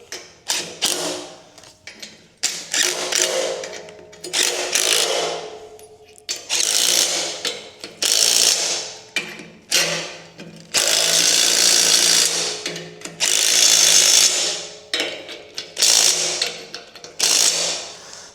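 A ratchet wrench clicks in repeated bursts while 18 mm bolts are torqued down on a Mech Max SG24 stump grinder, close and fairly loud, with short pauses between each run of rapid pawl clicks.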